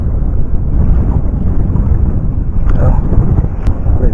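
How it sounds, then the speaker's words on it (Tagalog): Strong sea wind buffets the microphone aboard a fishing boat, a loud continuous low rumbling roar with gusty swells and no pause throughout. "Medyo lumakas na ang hangin natin dito mga master."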